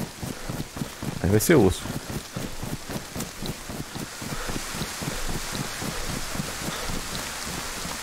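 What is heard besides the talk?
rain in the video game DayZ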